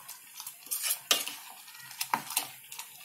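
Moong dal and jaggery cooking in a pan for puran poli, stirred constantly with a spoon that clinks and scrapes against the metal in scattered, irregular strokes over a soft background.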